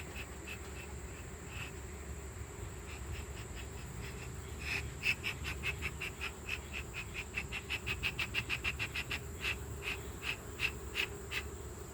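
Honey bees buzz around an open hive during an inspection, a steady low drone with a high insect whine, joined midway by a rapid run of sharp ticking or clicking pulses.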